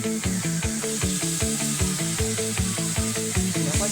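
Fried masala for egg curry sizzles hard in a pan once water goes in, a steady close crackle with a rhythmic scraping and stirring pattern running through it.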